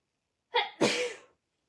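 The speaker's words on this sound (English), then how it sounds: "Now I'm going to sneeze." A single person sneezes once up close: a short sharp intake followed by a loud, explosive burst that trails off quickly, with silence before and after.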